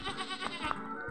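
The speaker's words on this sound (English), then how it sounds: "I will, bleated the greedy goat." A single goat bleats, a nasal wavering cry lasting about a second, close and fairly loud.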